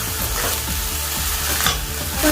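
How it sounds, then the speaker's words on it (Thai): Curry paste sizzles and is stirred in a little leftover fish-frying oil in a pan, a steady loud frying hiss with scraping stir strokes throughout. "นำน้ำพริกแกงค่ะ ใส่ลงไปผัดนะคะ"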